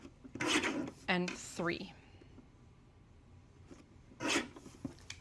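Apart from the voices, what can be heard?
trimming paper for a card-making kit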